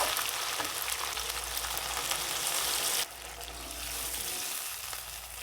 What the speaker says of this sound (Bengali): এবার ঝোলের জন্য জল দিয়ে দেব